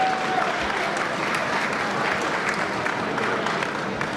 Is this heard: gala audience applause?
yes